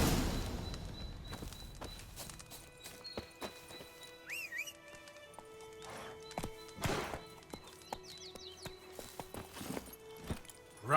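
Horse hooves clopping in The Witcher 3, an irregular series of hoof falls on the ground, fairly close, mixed with scattered game effects and a brief tonal chirp.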